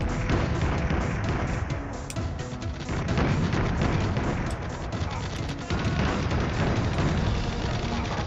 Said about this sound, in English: We can destroy all these with 1 nade each.